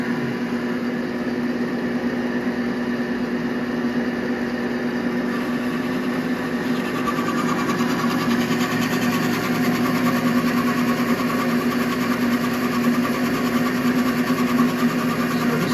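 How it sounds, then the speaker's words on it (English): A metal lathe turning a brass ferrule on automatic feed with the half nut engaged, giving a steady, continuous close mechanical whir and hum that holds level throughout with no talk. "We're going to be using the automatic feed with the half nut to get this down to the diameter that we want at 5/8."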